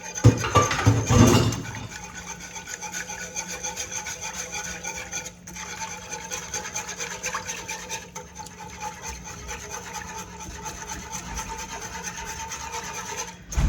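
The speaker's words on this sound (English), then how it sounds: "this is the part where you whisk, whisk, whisk" A whisk scrapes steadily around a pot of broth gravy, a continuous close rubbing and scraping, with one louder clatter at the start and no talk.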